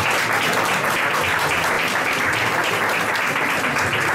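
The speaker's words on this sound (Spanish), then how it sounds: "Un aplauso a ella." Audience at a guidebook presentation event in Estepona applauds a presenter, continuous, even clapping from a crowd at steady volume throughout.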